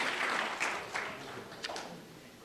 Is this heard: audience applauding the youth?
yes